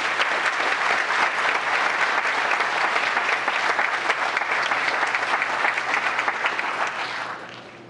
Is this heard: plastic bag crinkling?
no